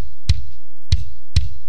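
Kick drum captured by a kick-in microphone inside the drum in a mix breakdown: three solo, punchy hits with a tight click on top and a short low thump, spaced evenly with silence between.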